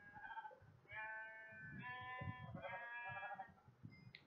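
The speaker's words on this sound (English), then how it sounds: "Alright, so let's beat up these sheep," Sheep in a Minecraft-style video game bleat in several wavering, nasal calls one after another, fairly quiet and clear with no talk over them.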